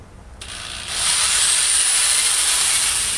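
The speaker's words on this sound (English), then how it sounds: "I'm just going to use this one to drill a hole to let my string through." A small power drill with a 1/16 bit bores a hole in dog bone material, starting with a brief whir and then settling into a steady high-pitched whine that carries on close and loud.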